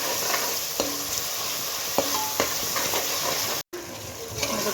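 Yogurt being stirred with mint and coriander in a cooking pot, a steady wet sizzling-like hiss with scattered soft spoon clicks and scrapes, continuous and close, with a brief dropout near the end.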